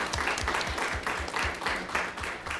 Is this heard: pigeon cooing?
no